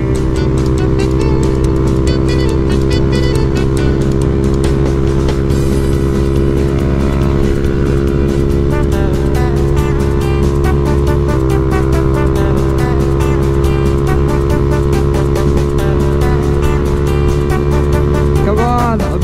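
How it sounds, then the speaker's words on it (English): A Honda Grom motorcycle running flat out on a freeway at about 73 to 74 mph, its engine giving a steady, loud drone with wind roar that holds unbroken throughout. "I'm top speed at a Grom right now."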